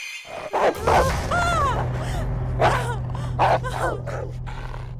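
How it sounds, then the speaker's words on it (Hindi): Dogs in a house bark in a series of sharp, tonal yelps against a steady low hum, loud and close, with several bursts spread over a few seconds. "इस घर में कुत्ते भी हैं।"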